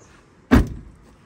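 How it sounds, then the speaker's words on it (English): A Honda Element door shut once by hand, a single close, solid thump with a short rattle after it in an otherwise quiet setting. "would you do the honors of closing my door?"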